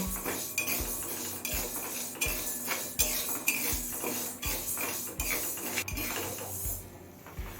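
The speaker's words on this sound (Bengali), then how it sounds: "এবার লো ফ্লেমে হালকা করে মুগ ডালটা ভেজে নেব" A metal spoon scrapes and clinks against a pan in a steady rhythm, stirring mung dal dry-roasting over a low flame, about a dozen strokes.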